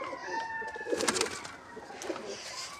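Two pigeons coo and rustle nearby while feeding, steady murmuring coos with a burst of busier sound in the middle.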